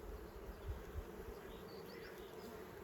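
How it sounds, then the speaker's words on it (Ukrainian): A honeybee swarm hums in a steady, dense drone, constant and fairly quiet throughout with a couple of brief low thumps near the start. "Чудовий рій."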